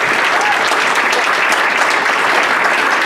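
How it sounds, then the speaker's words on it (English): A room full of people applauds a woman, a dense, loud, even wash of clapping that holds steady throughout without a break. "Give this woman a big round of applause."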